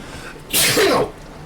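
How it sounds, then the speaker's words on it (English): A single sharp sneeze from one person, close and sudden, bursting out briefly and then fading back into quiet room tone. "I sneezed"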